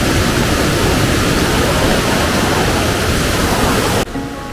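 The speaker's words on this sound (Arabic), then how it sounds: "نودع في هذه الآونة منبع النهر الأزرق هنا في ضواحي منطقة ترافنيك في وسط جمهورية البوسنة والهرسك" Water rushes loudly and without a break at the Blue River spring near Travnik in central Bosnia and Herzegovina, a dense roar close by that drops off suddenly at the end.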